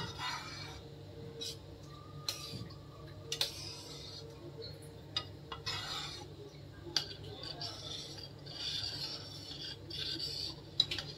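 Quiet scraping and rasping of a spoon stirring a milk and cream mixture for halwa in a pan, with intermittent clicks and taps against the metal over a low kitchen hum.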